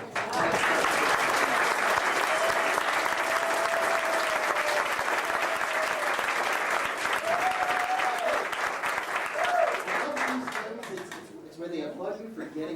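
A studio audience at a comedy and variety show breaks into loud, sustained applause with a few whistles cutting through, holding steady for about ten seconds before thinning out toward the end.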